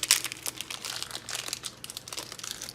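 A plastic packet of screws for a Kraken X73 liquid cooler mount is torn and crinkled open, a close burst of sharp rustling and crackling that runs continuously for a few seconds, alone without talk.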